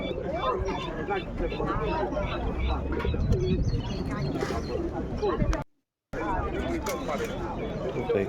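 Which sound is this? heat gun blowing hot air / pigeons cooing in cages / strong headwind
pigeons cooing in cages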